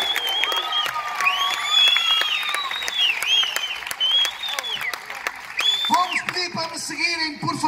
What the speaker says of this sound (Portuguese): uma grande salva de palmas para este magnífico público